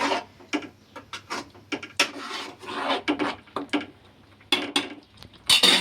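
Green chili paste made from ten green chilies, stirred in a cooking pan for green egg khichdi: repeated close scraping and rasping strokes of a spoon against the pan in an uneven rhythm, no talking.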